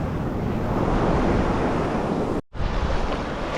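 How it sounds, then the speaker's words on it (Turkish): Ocean waves break at a Costa Rica surf spot with a loud, steady wash of surf and wind buffeting the microphone, cut off by a brief dropout near the end before the roar resumes. "tam şu noktalarda falan iyi dalga oluşuyor."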